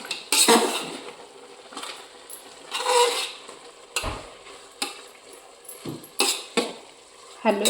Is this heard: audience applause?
no